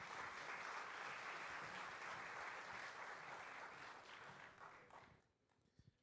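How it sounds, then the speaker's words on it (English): A crowded audience at an evening charity ball gives sustained, dense applause that holds steady and then fades out over the last second. "Please give Ms. Lisa Rowe another hand of applause"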